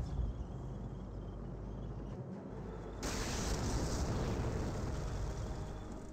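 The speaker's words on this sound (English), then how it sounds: "I don't know why I keep on hearing explosions like that." Rumbling blasts of explosions in the Company of Heroes real-time strategy game, a loud continuous roar of noise that swells louder partway through and sustains, with no talk.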